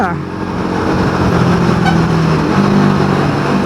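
A Royal Enfield Himalayan 450 motorcycle is ridden on an open road, its engine droning loud and close with shifting pitch as gears change, wrapped in wind rush, while a voice talks over it.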